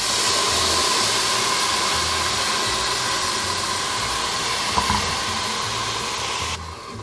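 A blended sauce mixture is poured into a Ninja Foodi pan of hot, golden-browned rice, giving a steady broad sizzling hiss that holds throughout and eases slightly near the end.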